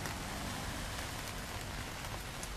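Rain falls steadily on a rainy day in Chattanooga, a dense, even hiss of drops with scattered closer taps and no voices.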